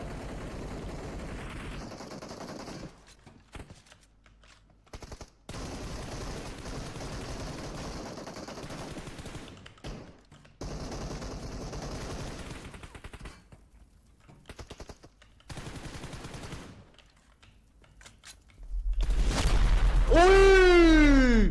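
Bursts of rapid gunfire crackle in repeated volleys, loud and close, broken by short silent gaps, ending in a louder swelling roar with a rising whine.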